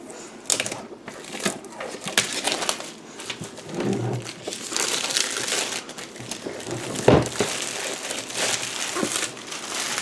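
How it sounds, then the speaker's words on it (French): Packaging crinkles and rustles close by while board game miniatures for Dark Rituals are unboxed, a steady run of plastic and cardboard handling noises with sharper snaps and crackles scattered throughout. "Alors allons-y pour ce magnifique déballage."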